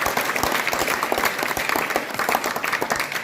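Applause for school staff at a Gandhi Jayanti event, a dense, steady burst of clapping from a crowd that fills the whole moment.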